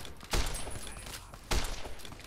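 Two loud gunshots ring out in the post-apocalyptic video game Fallout New Vegas, each a sharp blast with a noisy tail, spaced just over a second apart with softer gunfire and rumble between.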